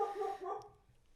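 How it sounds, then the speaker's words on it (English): A dog barks a few times in a quiet indoor room, fairly close but soft, with short yelping barks fading away toward the end. "this is Jimmy's dog, May."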